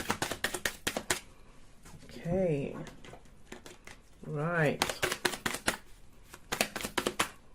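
Tarot cards are shuffled in quick crisp riffling bursts, one flurry before and another after a short spoken interjection, close and fairly soft.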